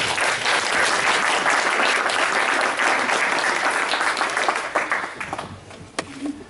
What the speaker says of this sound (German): Also, Applaus, danke.